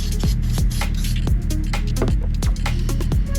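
Cleaner sprayed onto the chamber of a Fusion PC spray gun, a series of short hissing bursts repeating close up over a steady mechanical hum, with no talking.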